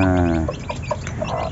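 A hen gives a short run of soft, low clucks, close up and alone, with no talk.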